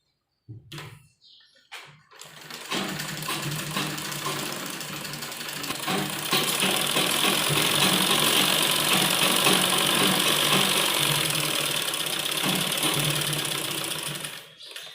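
A sewing machine stitches a round seam on gents underwear fabric, starting with a few short stops and starts, then running in one long, steady, close whirring burst before halting.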